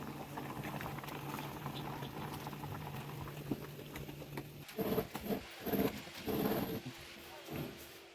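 Corn cobs boiling in a pot give a steady low bubbling simmer, then bursts of sputtering and popping bubbles in the second half, close by and moderately quiet.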